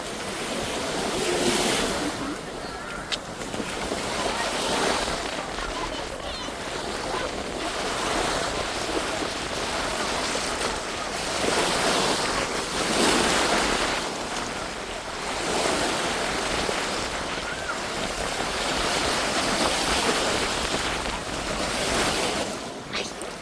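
Sea waves at Langeron beach in Odesa, with loud surf rolling in and breaking in repeated broad swells alongside steady wind noise on the microphone.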